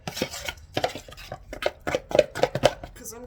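Drywall mud being stirred in a bucket during a farmhouse renovation, with uneven scraping and knocking strokes close by, separated by brief pauses, while a person talks between them.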